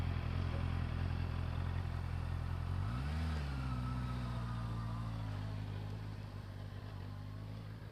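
A motorcycle idles and putters nearby in first gear while looping a slow figure of 8 on a test-centre training circuit, its engine note dipping and rising briefly mid-clip over steady low rumble.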